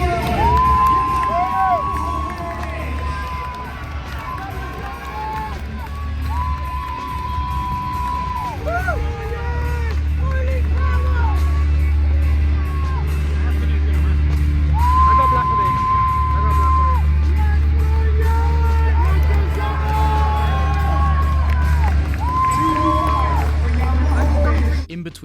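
A large crowd at the UFC London weigh-ins cheers, shouts and whoops continuously for about 25 seconds, loud and sustained, with an amplified voice and other talk mixed in.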